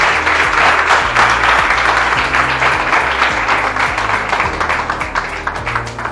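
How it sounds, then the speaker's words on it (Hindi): An audience at a school event in Bihar gives loud, continuous clapping that carries on for several seconds over a low, steady tonal hum, with no speech. "मैं चाहूंगा इन बच्चों के लिए एक बार जोरदार ताली"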